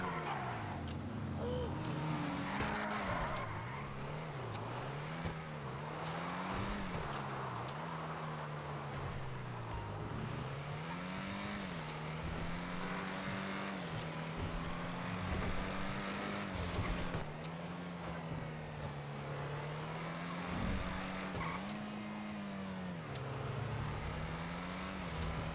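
A modified casino car's engine drones and revs continuously in a video game drive, pitch rising and falling as it accelerates, with occasional tire and road noise.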